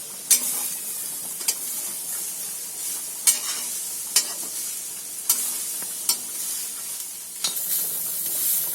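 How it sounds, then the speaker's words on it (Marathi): A spoon stirs Marathi-style masala roasting in a pan for a rice thali, giving a steady close sizzle with sharp scraping clinks recurring every second or so, no voices. "जरा चमचा फिरवायचा त्याच्यामध्ये"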